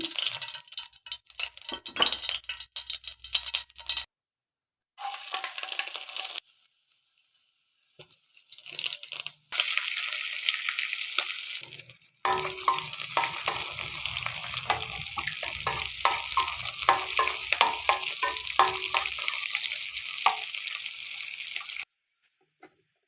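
Tempering of cumin, mustard seeds, curry leaves, sliced onions and a dry red chili frying in hot oil, a steady crackling sizzle with stirring clinks, broken by a few brief quiet gaps.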